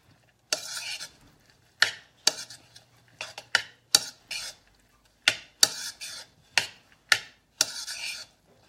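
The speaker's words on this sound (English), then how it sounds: "let me go ahead and stir this" Spoon stirring a cheeseburger casserole mixture in a pan or bowl, with about a dozen close scraping strokes at an irregular, steady pace.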